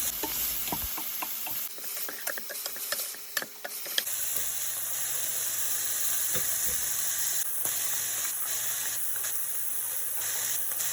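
Peas and carrots sizzling and frying in a pan for chicken fried rice, with steady high hiss and occasional stirring clicks and scrapes, close and continuous.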